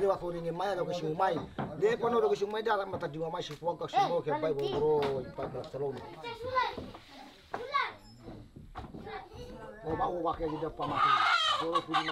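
Chickens cluck amid a Mentawai ritual gathering in the Indonesian jungle, where a chicken is sacrificed; the bird sounds are mixed with lively children's voices and people talking throughout, with no crowing clearly standing out.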